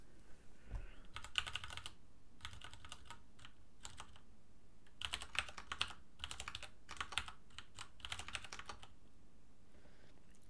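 Rapid keystrokes on a computer keyboard come in several bursts of clicky typing separated by short pauses, close and fairly quiet against a steady low hum, while someone programs in C with no talking.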